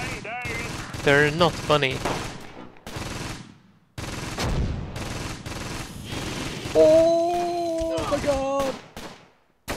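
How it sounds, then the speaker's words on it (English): Bursts of German machine gun fire crackle in a Close Combat battle over a village, with rapid volleys broken by short pauses, while someone talks and exclaims loudly over the shooting. "Those German machine guns, man."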